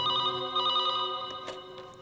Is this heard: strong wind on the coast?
no